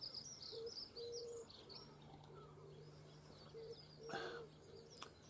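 Birdsong drifts over an allotment in the early morning, with repeated chirps and short calls from several birds at a moderate distance, steady and layered over a low background hum, with a brief louder burst near the end.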